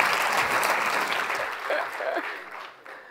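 Conference audience applauds a speaker from the National Institutes of Health in a dense, steady wash of clapping that gradually thins and fades over about three seconds.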